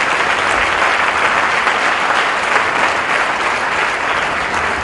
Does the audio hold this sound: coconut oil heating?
no